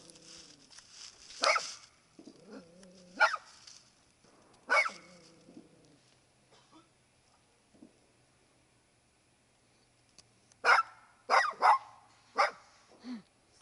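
A puppy, scared of a riding lawnmower, barks in short, sharp bursts, a few early on and a quick cluster near the end, with quiet gaps between and some whiny tones.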